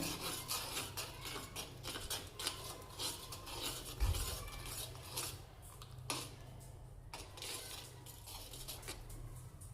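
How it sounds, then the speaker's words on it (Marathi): Raw milk stirred continuously in a pan as it comes to a boil on the stove, a steady soft scraping and rubbing with occasional light metallic clinks, fairly quiet and close, with no talking. "दूध असं सतत हलवत राहायचं आहे"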